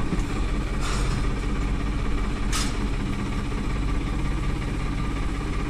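A farm tractor fitted with a front loader bucket runs its engine at a steady idle, a low continuous diesel drone close by with a couple of brief higher clanks partway through, and no voices.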